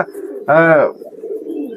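A loud, close pigeon coo from a collected racing pigeon, one rich harmonic call lasting under half a second, set against a low murmur of other birds before and after.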